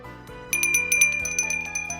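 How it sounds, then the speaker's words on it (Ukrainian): A small bell rings with quick bright tinkling strikes, clear and close, over a soft steady musical background. "ми чуємо звук дзвіночка"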